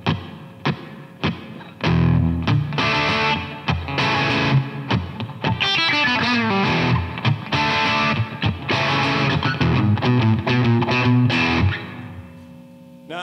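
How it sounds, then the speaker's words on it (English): A 1974 Fender Stratocaster on the bridge pickup with distortion plays a fast riff with sustained chords and quick runs, in a bright, trebly tone, loud and steady throughout. "You put it on the bridge pickup, it's pure treble that way, and a little bit of distortion."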